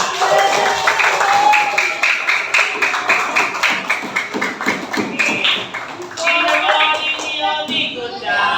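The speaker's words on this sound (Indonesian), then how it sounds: "Tepuk tangan buat kita semua." A class claps hands together in rapid, dense bursts, close and fairly loud, with a brief lull before a second round of clapping near the end.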